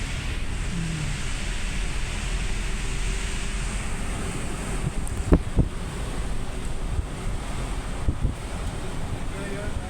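Strong wind buffets the microphone while rough sea waves surge and break on Kondivali beach, a constant roaring wash with a few sharper gusts and crashes partway through.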